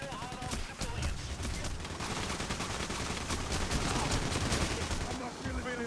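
Gunfire in the Payday heist game, a dense run of rapid shots over a steady loud din of action, with a voice faintly present beneath the shooting.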